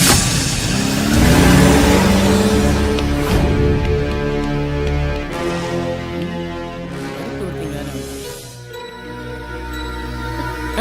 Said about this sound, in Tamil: டிரைவர், வண்டி எடு.